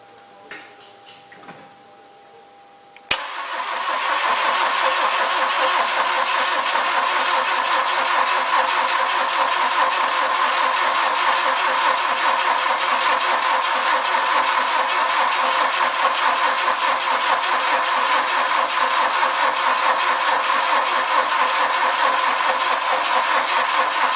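Citroën CX 2200D diesel cranking on its starter motor after a brief click: a loud, steady, whirring churn that drones on without catching, recorded close with no talk.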